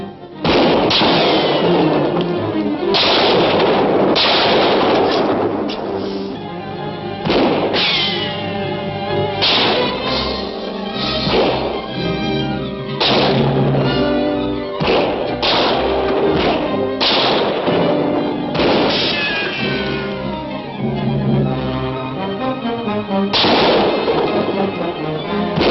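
Loud movie gunfire crashes in repeated bursts of shots and booming blasts, layered with a dense soundtrack and effects, with brief lulls between volleys.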